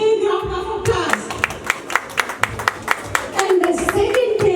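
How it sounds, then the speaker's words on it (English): A small audience at a community NYPD appreciation awards event gives a short burst of clapping, individual claps distinct and close, with a voice speaking just before and after. "Please give him a big round of applause."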